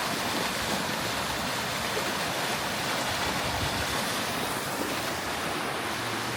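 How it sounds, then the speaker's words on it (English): Continuous rushing water, a steady broadband wash like a flowing stream nearby, with no voices over it. "Got some water moving down here."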